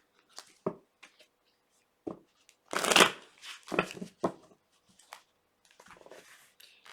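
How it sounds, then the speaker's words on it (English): Tarot cards being shuffled in several short bursts of riffling and snapping, with brief pauses between, close up and fairly quiet. "Let's give this a good shuffle real quick."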